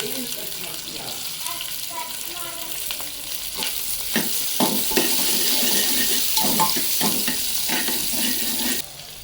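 Sliced onion and chopped green chillies fry in hot ghee for ghee rice, a steady close sizzle with scattered stirring clatters and a few scrapes, with no talking.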